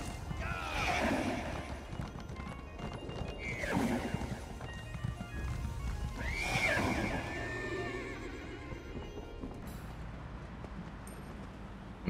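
A horse in Elder Scrolls Online neighs and whinnies several times, its hooves clip-clopping underneath, with a steady game ambience throughout.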